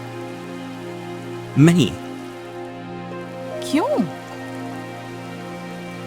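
Steady rain falls near an old bridge, a constant soft hiss beneath two brief spoken exchanges.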